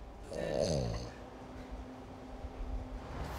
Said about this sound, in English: This dog snores louder than an old grandpa.